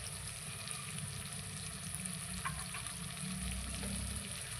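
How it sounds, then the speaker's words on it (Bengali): Spices and turmeric are sautéed with meat in a pan, making a soft, steady frying hiss over a low hum, with occasional light stirring taps and no speech. "এবার ভালো করে মশলাটাকে কষাবো মাংসের সঙ্গে।"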